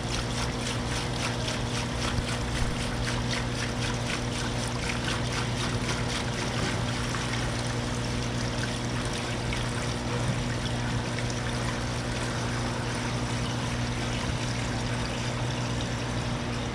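Water poured steadily into a desktop aquarium, splashing onto resin decoration, a continuous close trickle and wash over a low hum, with no talking.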